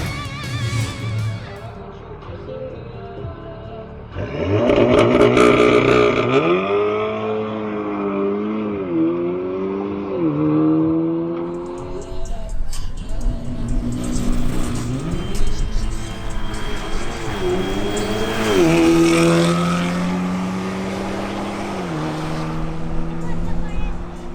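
An Audi S3 launches down a drag strip on a qualifying run, its engine climbing through loud rising revs with clear gear shifts, then revving hard again, with people talking over it.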